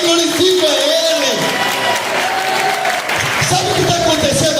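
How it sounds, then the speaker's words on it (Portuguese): A church congregation claps and cheers loudly and steadily during a family celebration service, with voices calling out amid the applause. "eu dou um aplauso a Jesus, e junto com os aplausos eu também glorifico a Ele"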